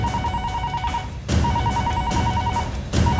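A telephone rings in repeated trilling bursts, loud and close, with short pauses between rings.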